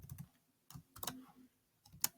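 Several short bursts of clicking keystrokes on a computer keyboard, spaced by brief pauses, sound close and quiet in an otherwise silent room as text is edited in Emacs.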